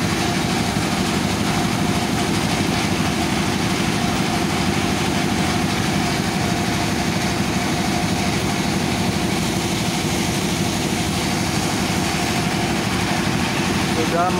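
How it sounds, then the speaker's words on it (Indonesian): A rice milling machine runs steadily and loudly for the whole stretch, with a dense, continuous mechanical drone that holds constant throughout. "penggilingan padi lur."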